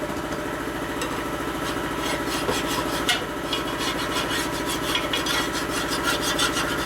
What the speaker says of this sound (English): You can hear the file change as you hit burrs here now.